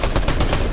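A rapid burst of gunfire from a headshot in the Fortnite video game, several loud, tightly spaced shots packed into under a second.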